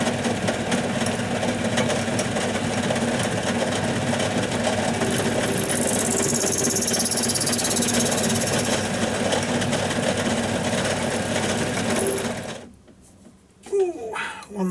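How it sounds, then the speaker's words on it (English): Lathe facing off steam engine cylinder parts for a gauge one live steam rail motor, a steady loud machining whine and rumble running continuously before cutting out near the end. "just pop them in the lathe, face them off down to the right thickness, and doing the same for the cylinders"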